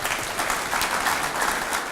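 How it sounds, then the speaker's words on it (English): A farmers' meeting hall fills with warm applause for local volunteers, many hands clapping steadily and evenly at moderate volume with no voices over it. "we at the outset should give them a round of applause because they deserve it"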